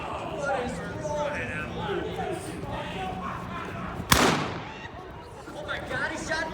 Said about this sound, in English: he shot David